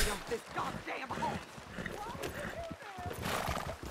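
Horse in Red Dead Redemption 2 whinnying and snorting with hooves clopping underneath, several rising and falling neighs across the clip, heard beneath a person talking.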